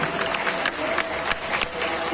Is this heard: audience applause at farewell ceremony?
yes